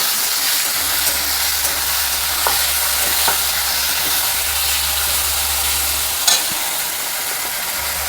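Chopped tomato fries in a hot pan for aloo paratha, a steady bright sizzle running throughout, broken by a few sharp scrapes and clinks as it is stirred.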